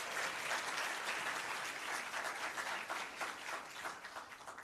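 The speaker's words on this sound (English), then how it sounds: "give them a round of applause" A crowd applauding at the launch of a public sector debate competition, dense continuous clapping heard from a distance and slowly thinning toward the end.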